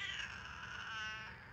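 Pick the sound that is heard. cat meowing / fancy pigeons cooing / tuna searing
cat meowing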